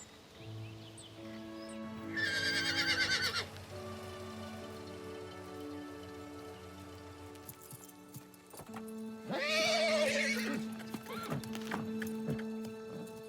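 A horse whinnies twice, a rising harmonic call near the start and another later, over a steady low hum and a soft patter in the background.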